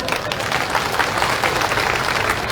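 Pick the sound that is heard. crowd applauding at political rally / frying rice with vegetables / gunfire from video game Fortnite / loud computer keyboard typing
crowd applauding at political rally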